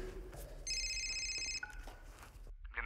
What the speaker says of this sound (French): C'est son téléphone, chef.